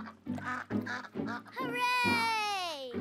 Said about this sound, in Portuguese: Foi tão legal você dar comida para os patinhos.